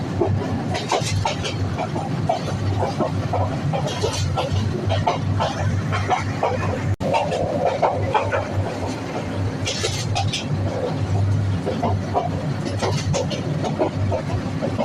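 A passenger train rolls through the green hills of Sitakunda in Chittagong, heard from inside the carriage as a steady loud rumble and rattle of wheels with scattered clanks throughout.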